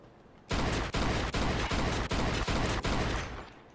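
Rapid gunfire in the Mafia 2 video game, about eight loud shots in an even burst lasting roughly three seconds, dense and close with no talk over it.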